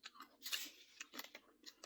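A crunchy cream wafer cookie bitten and chewed close up: a quick series of sharp, dry crunches in a quiet room.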